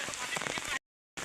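Heavy monsoon rain pours down in Odisha as a dense, steady hiss, broken by a short stretch of silence before the downpour resumes.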